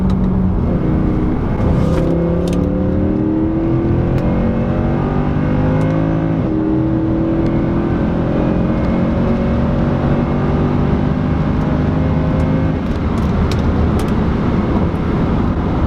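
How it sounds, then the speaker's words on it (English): A 2014 Mercedes C63 AMG engine blips and revs through repeated downshifts, with loud rising and falling engine tones stacked close together, plus a few sharp crackles over steady road and cabin noise. "This downshift sounds so good."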